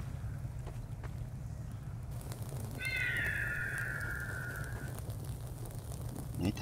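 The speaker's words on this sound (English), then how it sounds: "Make that stupid bird noise" A bird in the Garry's Mod map gm_ghosthunt lets out one drawn-out, sliding cry over a steady low wind-like rumble.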